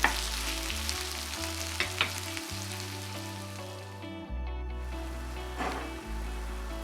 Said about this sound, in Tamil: வெட்டி வச்சுக்கக்கூடிய தக்காளி, இதையும் நல்லா நம்ம வதக்கி எடுத்துக்கிறோம்